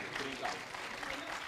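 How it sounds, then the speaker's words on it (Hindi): A hall audience at a Hindi poetry gathering claps briefly, with steady, moderately loud applause that fills the short moment. "मैं चाहता हूँ सारा सदन एक बार जोरदार तालियां बजाएं"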